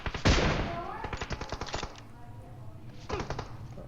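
Gunfire from an M24 sniper rifle in PUBG Mobile: one loud, sharp close shot, then a rapid burst of cracking shots and a second, quieter burst a moment later.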